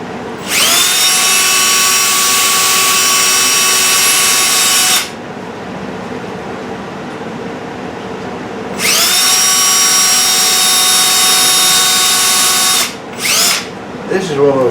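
A power drill driving screws while mounting a hose reel whines loudly at steady high speed in two long bursts separated by a pause, then a few short spins at the end.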